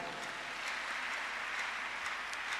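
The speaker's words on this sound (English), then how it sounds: "Give Jesus a clap offering." A church congregation gives a sustained clap offering, a steady, even wash of many hands clapping at a distance, fairly soft with no voices standing out.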